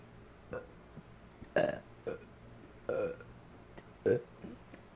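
Several burps come in quick succession, short and close, some louder and longer than others, separated by brief quiet gaps.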